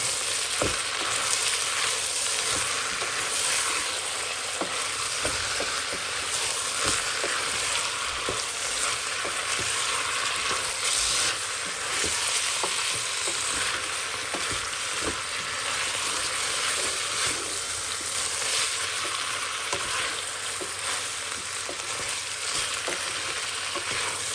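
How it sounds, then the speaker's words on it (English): Chicken soup ingredients fry in a pot with a steady, bright sizzle and repeated clinks and scrapes from stirring, close and continuous. "Give it a stir"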